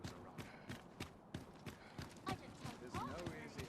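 Horse hooves clip-clop in Dragon's Dogma 2, a steady, evenly spaced trot of sharp knocks at moderate distance, continuing beneath a voice speaking over the last part.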